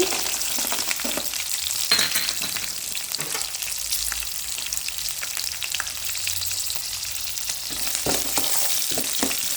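Peanuts fry in hot oil with onion and carrot for a thick avalakki (flattened rice) dish, a dense continuous close-up sizzle with occasional stirring scrapes and no talk.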